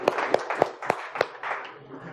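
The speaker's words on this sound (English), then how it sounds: "let's give her a round of applause" Audience applause at a B-Sides security conference, a short burst of scattered hand claps with a few sharp louder claps standing out before it thins and fades.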